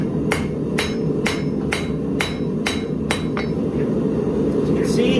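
A steady series of about eight close, ringing hammer blows on a Viking seax blade being drawn out at the forge, the pace gradually easing and the last strikes spreading apart, all over a constant low roar.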